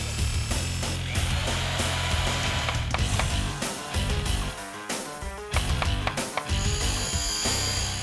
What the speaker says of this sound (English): Cut 2 slabs of the same MAKASSAR ebony hardwood